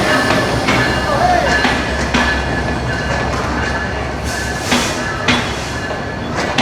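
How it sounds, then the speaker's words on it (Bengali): Chilahati–Dhaka train rolling in at a station, a steady low rumble with rail noise and faint clatter running throughout, with people talking over it. "এই যে দেখেন ওই পাশে কিন্তু একটা ট্রেন চলে আসলো"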